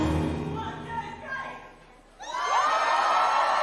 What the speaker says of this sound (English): That's the response of the crowd at the end.